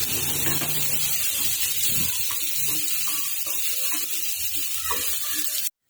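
Onions sizzle and fry steadily in a hot pan for a potato-tomato sabzi, a continuous close crackling hiss with faint stirring and kitchen clatter, no talking.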